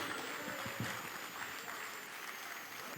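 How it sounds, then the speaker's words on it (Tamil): Audience at a student arts and literature festival prize ceremony applauding a third-prize winner, a steady even round of clapping heard from a distance, fairly quiet with no talk over it. "ஒரு பெரிய கைத்தட்டல் கொடுத்துடலாம்."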